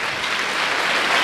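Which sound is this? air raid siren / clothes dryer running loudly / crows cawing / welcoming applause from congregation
welcoming applause from congregation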